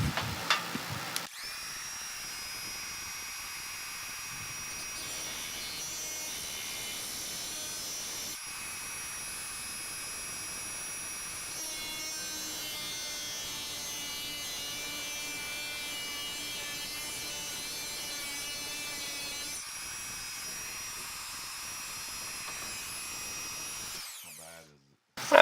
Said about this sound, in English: the first thing we have to do is Dremel this bolt off here